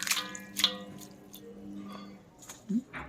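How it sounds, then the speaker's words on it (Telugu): Green chillies rinsed in water in a home kitchen, with soft splashes, drips and squishy handling sounds, quiet and close, while a voice murmurs faintly in the background. "ఇంకా పచ్చిమిర్చి కూడా ఇలా నీట్గా కడుక్కుని"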